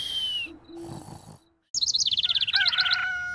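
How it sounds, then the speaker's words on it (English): A blackbird sings at dawn in a garden: clear, close whistled phrases and rapid trills ring out on their own, following a brief lower hooting call and a short moment of silence. "The blackbird rises with the sun, as each new dawn has just begun"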